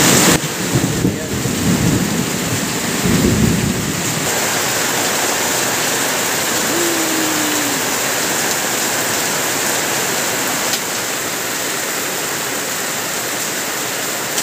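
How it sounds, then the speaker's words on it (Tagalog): Heavy rain pours down in a loud, constant roar while thunder rumbles low in the first few seconds, and a voice speaks briefly under the downpour. "Lakas ng ulan mga idol."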